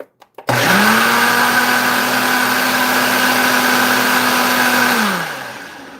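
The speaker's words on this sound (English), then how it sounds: "let me put this in the blender" A blender whirs steadily for about four seconds, mixing a thick almond drink mixture, its motor spinning up after a brief clatter and then winding down at the end.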